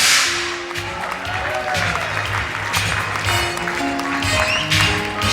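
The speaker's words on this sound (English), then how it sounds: "Ladies and gentlemen, a round of applause, please." Audience applause fills the hall at the Miss Universe Sri Lanka 2011 pageant crowning, dense continuous clapping with some whistles and cheers, loud and steady throughout.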